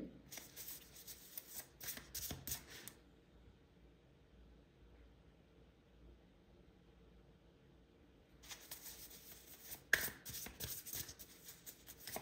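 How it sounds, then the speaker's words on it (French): Oracle cards being shuffled and laid out, brisk papery riffling close up at the start, a quiet pause, then more shuffling and card handling with a sharp snap near the end. "Je vais te mettre une carte de chant de l'âme ici."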